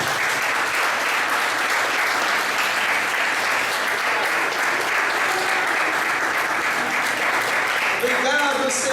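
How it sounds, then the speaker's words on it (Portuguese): A church congregation claps in a long, steady, dense round of applause that fills the room at moderate loudness, with a voice speaking briefly at the very end. "Você pode aplaudir Jesus?"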